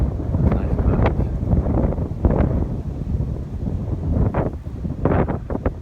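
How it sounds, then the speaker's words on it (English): Gusty wind blows across an open pasture near a road on a cold day, buffeting the microphone in loud, uneven rushes and lulls, with no clear speech. "Well, it's a little windy,"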